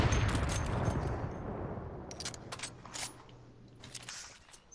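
Fortnite sniper and gunfire shots, a few sharp cracks spaced apart, the first heavy and booming, later ones thinner and fading.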